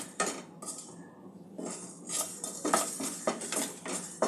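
Kantola coated in mustard paste is stirred in a pan over a medium-low flame, with repeated scraping clinks of a utensil against metal in short bursts and brief pauses between strokes.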